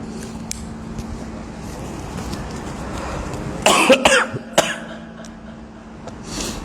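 A short burst of coughing, two or three harsh coughs close together, over a quiet background of distant traffic hum.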